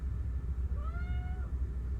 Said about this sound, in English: she's meowing at me